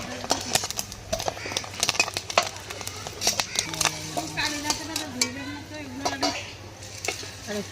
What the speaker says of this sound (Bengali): মাছের ডিমটা লাল লাল করে ভেজে নিয়েছি,